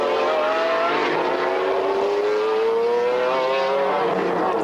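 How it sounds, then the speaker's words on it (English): Porsche GT race car engine from a 1995 BPR Global GT Series race at Jerez, a loud high-revving wail with rising pitch sweeps as it passes on track, sustained throughout. "as we saw Wolfgang Kaufmann there, passing in the Freisinger Porsche."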